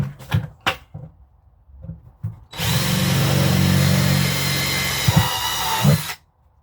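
After a few knocks and handling noises, a power drill drills drain holes in a bucket, running steadily for about three and a half seconds, close and loud, then stops abruptly.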